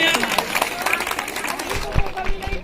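Loud applause from an audience at a school science quiz prize ceremony, dense clapping and crowd noise with voices talking over it.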